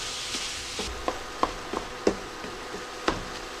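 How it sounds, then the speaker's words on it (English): Ground beef browning in a frying pan for a hamburger and potato casserole: a steady low sizzle with scattered clicks and scrapes of a utensil breaking up the meat, close by, with no talking. "what I'm gonna do now is finish browning this meat up"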